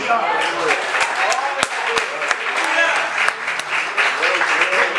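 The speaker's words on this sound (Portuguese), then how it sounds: "Você pode aplaudir Jesus?" Church congregation applauding during a worship service: dense, continuous clapping that fills the room, with voices calling out and talking underneath throughout.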